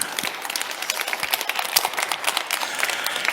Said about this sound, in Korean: 우리 하나님께 박수로 영광 올리겠습니다